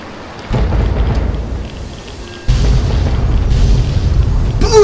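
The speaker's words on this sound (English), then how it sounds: "Gotta love the explosions in Fallout," Two deep, rumbling booms hit in succession, each followed by a sustained roaring wash of noise, loud and heavy like a big explosion, in the video game Fallout 3.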